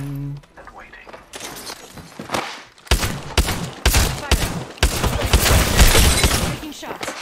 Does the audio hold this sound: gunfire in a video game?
yes